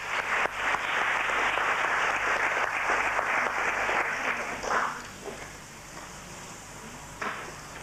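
An audience at a 1991 Jaycees junior speaking contest applauds a contestant, a steady wash of clapping for about five seconds that then fades to a quiet room with a single later thump.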